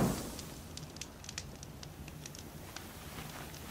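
Soft crackling and popping of a campfire in Horizon Zero Dawn, a steady faint patter of small snaps over low background hiss, heard alone without talk.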